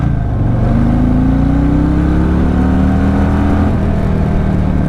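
A 2024 Harley-Davidson Fat Boy 114 V-twin accelerating, its loud, close engine note climbing steadily in pitch over a deep continuous rumble, then easing off near the end, with no voices.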